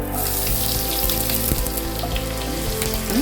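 Onions fry in oil with a bay leaf and cinnamon stick, giving a dense, even sizzle and bubbling up close, with a few soft knocks from a utensil and no talking.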